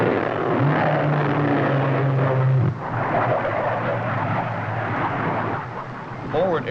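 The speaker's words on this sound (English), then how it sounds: "When the target is clearly established, the fighters attack." Fighter aircraft attack a ground target in a 1968 U.S. military air support operation; a loud, steady engine roar with sustained tonal whine fills the whole stretch, easing slightly midway and swelling again near the end.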